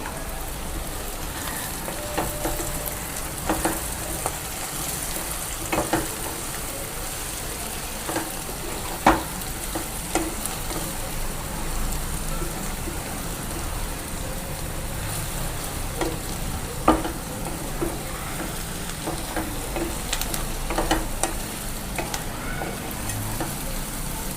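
Brinjal pieces coated in spice powder sizzle steadily in a pan, a continuous close frying hiss broken by occasional clinks and scrapes of stirring, with no talk over it.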